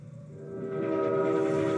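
Indian Railways train with its horn sounding a long, sustained blast that swells louder and nearer over the rumble of the rolling train.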